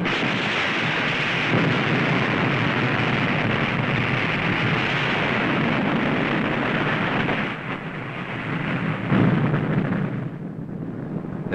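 A depth charge detonating against a submarine, a long deep rumbling roar that fills the whole stretch, dipping briefly then swelling again before fading at the end.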